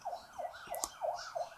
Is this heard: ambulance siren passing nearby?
yes